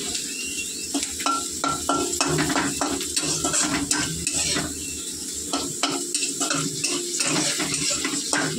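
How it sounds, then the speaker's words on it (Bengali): Food frying in a pan with a steady sizzle, punctuated by repeated scraping stirs and clinks of a utensil against the pan, close and fairly loud throughout with no voices. "চলো ভালো করে ভেজে নিই।"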